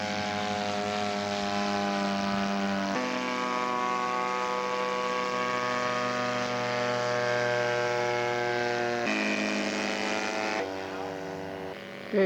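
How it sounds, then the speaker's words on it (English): A scale model de Havilland aircraft flies at a scale aircraft show, its propeller engine giving a steady, buzzing drone. The pitch steps up and down several times as it passes. "Okay, Bruce Harlow's coming home with his de Havilland."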